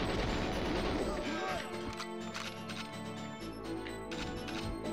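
Gunfire from the GoldenEye 007 video game, rapid shots crackling loudly and steadily through the stretch with a dense, busy in-game mix underneath.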